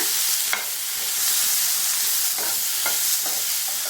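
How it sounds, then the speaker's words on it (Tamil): Snake gourd coated in masala fries in a pan, a dense, loud, close sizzle with a few soft stirring scrapes over four seconds, no speech. "இப்போ எல்லா சைடும் மசாலா கோட் ஆகிற அளவுக்கு நல்லா கலந்து விட்டாச்சு"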